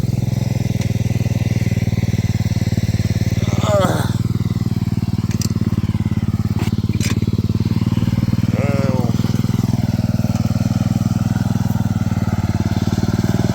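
An off-road lawn mower with a welded differential roars continuously at high revs, loud and close, with a couple of brief squealing surges as it is given gas; people talk over the engine.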